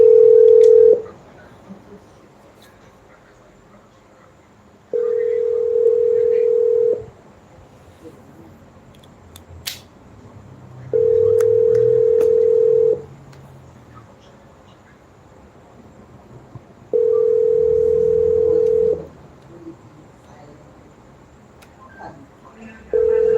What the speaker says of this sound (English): I'm going to try to call Kimon and find out if she did hear no sound